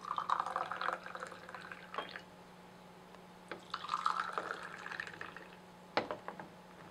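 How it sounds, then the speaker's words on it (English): Brewed Bi Luo Chun green tea poured from a small pot into a drinking cup, two short close trickling pours with soft drips between, quiet and without talk. "we serve the tea into the drink cup from your pot"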